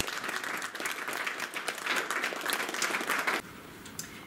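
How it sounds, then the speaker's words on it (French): Audience applause welcoming a group of presenters, a steady dense clapping from a room full of people that drops sharply to a quieter level near the end. "On peut les applaudir."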